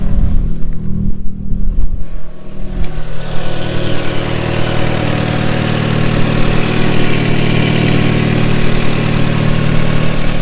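An Audi S3 engine idles steadily after start-up, with no rough idle despite a suspected misfire problem. It is a loud, continuous, even mid-low rumble that settles in within the first few seconds and runs on alone without talk.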